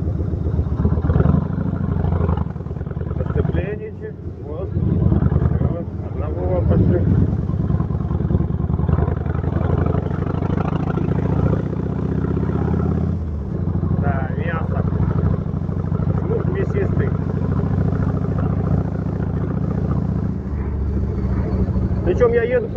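A Yamaha XV 1600 Road Star cruiser motorcycle engine hums steadily at low revs, around 1500 to 2500 rpm, while riding, with wind rush and someone talking over it most of the time.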